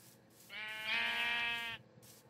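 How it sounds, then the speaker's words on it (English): A sheep in the video game Minecraft gives one clear, drawn-out bleat of about a second, near and alone over a quiet background. "There's a bunch of sheep,"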